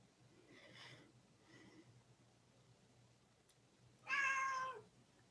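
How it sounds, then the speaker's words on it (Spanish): A female cat meows three times indoors, with two soft, faint calls followed by a louder, longer, tonal meow near the end, over a quiet background. "Mi gata quiere intervenir."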